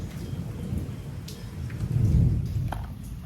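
A thunderstorm with heavy rain over a Bengali village, with steady rain hissing close by and a low roll of thunder swelling near the middle before it fades back into the downpour.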